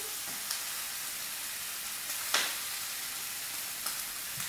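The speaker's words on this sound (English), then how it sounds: "I'm just going to fry the pieces into my skillet." Chicken pieces for African BBQ chicken (kati kati) frying in a skillet, a soft steady sizzle with a few brief louder spatters and crackles, close and alone with no talk.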